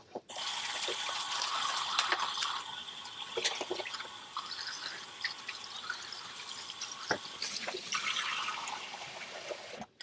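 Tap water runs steadily while makeup brushes, natural-hair and synthetic, are rinsed under it, a broadband splashing hiss with scattered drips and brief spatters, fairly close and continuous throughout.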